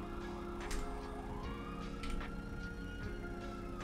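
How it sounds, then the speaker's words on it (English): Police car sirens in the GTA RP video game wail loudly and continuously over a dense engine and traffic rumble, with a rising sweep in the middle. "these sirens are so loud"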